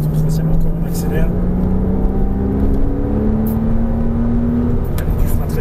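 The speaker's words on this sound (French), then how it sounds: "Allez, vas-y, reste en troisième encore, on accélère." A car accelerates hard in third gear on a race track, its engine note climbing steadily in pitch, loud and close, while an instructor talks over it.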